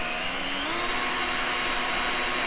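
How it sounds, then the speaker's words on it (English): A power drill whines at a steady high pitch as it pre-drills a small hole through into a vintage wooden spindle, one continuous loud close run with a slight pitch step early on. "that same little hole I'm going to pre-drill, and I want it to go all the way through up into my spindle this time"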